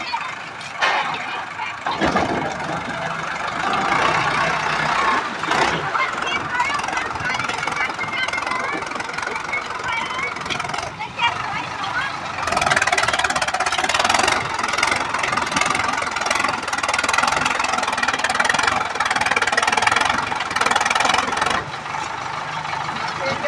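A Sonalika 750 RX tractor engine running steadily outdoors, a loud continuous diesel rumble with slight surges throughout, close to the listener.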